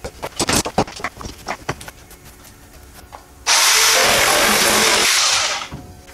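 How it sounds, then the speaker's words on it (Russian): A DEKO variable-speed jigsaw bursts into a loud, dense buzzing rasp as it cuts a hardboard offcut for about two seconds, after several sharp handling knocks, then winds down. "Предлагаю испытать лобзик в действии."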